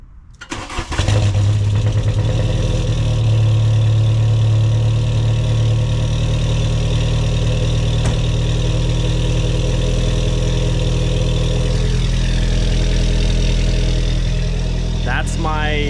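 A VW Mk2 wagon engine cranks and catches, then settles into a steady, loud, rumbling idle through a makeshift replacement exhaust, close by with no talking.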